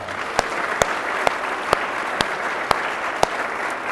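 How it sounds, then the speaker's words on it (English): Steady applause rises from a luncheon crowd at a Toronto club event, a dense even wash of clapping punctuated by a few sharp, regularly spaced clicks. "And one more round of applause for the four of them"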